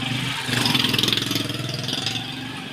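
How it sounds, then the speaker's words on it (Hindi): A motorcycle engine runs close by with a pulsing, throbbing rhythm that rises in intensity midway, a mid-pitched rumble heard on its own without talk. "ये मोटरसाइकिल जा रहा था, शोर था"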